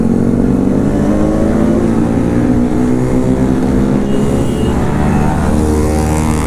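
Bajaj Pulsar NS200 BS7 motorcycle engine fitted with an Akrapovic V2 exhaust, a loud steady throaty idle and rev close by with a continuous rumbling growl that holds throughout, no talking.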